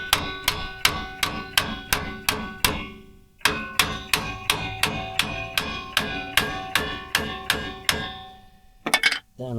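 Drum brake components are tapped down with a hammer in a steady run of sharp metallic strikes, about two per second, close and clear, pausing once midway, with a brief clatter at the end.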